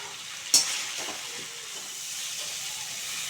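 Curry with potatoes and matar dal fritters frying and being stirred in a pan, a loud sharp clatter at the start, then a steady close hissing sizzle alone.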